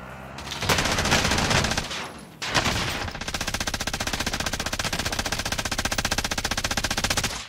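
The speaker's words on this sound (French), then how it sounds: "Ça tire de ouf." Rapid automatic gunfire rattles in a Call of Duty match, a loud burst, brief pause, then a long sustained stream of evenly spaced shots close up, with no talking over it.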